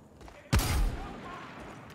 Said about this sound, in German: Und wer schießt denn jetzt auf mich?